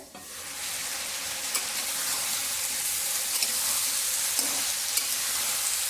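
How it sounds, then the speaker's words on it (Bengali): After a quiet start, a pan of mustard and drumstick curry starts frying with a steady, loud sizzle, and a few light taps from stirring sit on top of the hiss. "যখন ভালো করে একটু নেড়ে নিলাম, আবার ঢেকে দেব"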